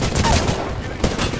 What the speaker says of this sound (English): Is that your airstrike?